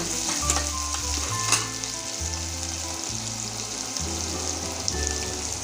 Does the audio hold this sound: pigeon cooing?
no